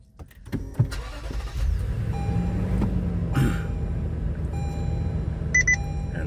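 Inside a 2022 Lexus GX460, the ignition turns and the engine starts and settles to a steady idle while an Escort Redline radar detector powers up with a few short electronic beeps and tones, with no talking.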